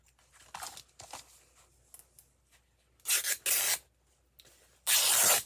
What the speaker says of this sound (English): I'm gonna tear a piece of this fabric